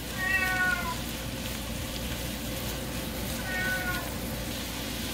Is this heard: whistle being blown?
no